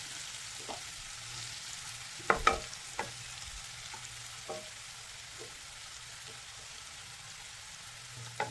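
Onions sprinkled with salt fry in a pan over a raised flame, a quiet continuous sizzle broken by a few sharp clinks and scrapes of a utensil stirring.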